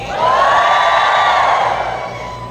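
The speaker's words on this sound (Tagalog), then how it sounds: "Sumigaw po yung nakikinig." A listening audience at a youth gathering in Batangas shouts and cheers together, a sustained loud roar of many voices with a few high whoops rising above it for a couple of seconds.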